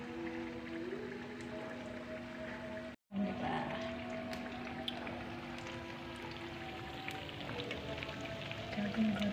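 Steady rain falls in a soft continuous patter and hiss, fairly faint, with a brief dropout partway through before the shower resumes.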